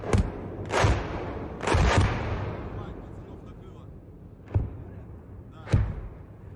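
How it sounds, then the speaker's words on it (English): Ukrainian artillery shells hit a Russian border outpost, a series of distant heavy thuds and booms, five impacts spaced irregularly with rumbling decay between them. "we also saw the border outpost in this area being shelled by what we believe to be Ukrainian artillery"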